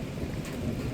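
Steady rain pours at night with a low rumble of thunder beneath, dense and continuous without pause, and no voices over it.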